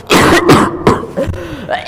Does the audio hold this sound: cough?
yes